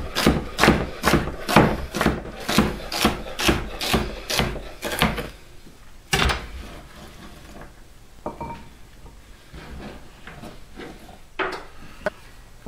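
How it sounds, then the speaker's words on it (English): A knife chops celery into chunky strips on a wooden cutting board, with a quick run of about a dozen steady close thuds, then sparser knocks and light rubbing. "cut it into some nice long strips, but not too small, and cut it kind of chunky"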